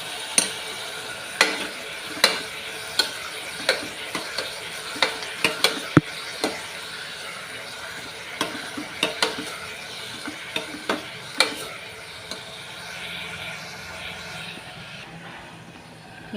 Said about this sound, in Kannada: ಉಳ್ಳಾಗಡ್ಡೆ ಮತ್ತು ಟೊಮೆಟೊ ಹಾಕ್ಕೊಂಡು ಸ್ವಲ್ಪ ಫ್ರೈ ಮಾಡ್ಕೊಳ್ಳೋದು ಅದನ್ನು ಸ್ವಲ್ಪ ಫ್ರೈ ಮಾಡೋಣ